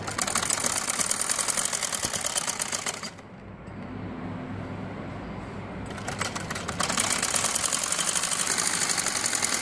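A sewing machine runs in close, fast steady bursts while stitching pleats onto a poncha; the motor stops briefly midway, leaving a quieter hum, then starts stitching again with no talking.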